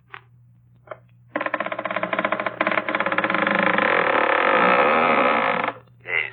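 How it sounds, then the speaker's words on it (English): A front door creaks slowly open as a sound effect, a long loud grinding groan lasting several seconds after a couple of faint taps, close and alone over a low background hum. "And now the door creaks open."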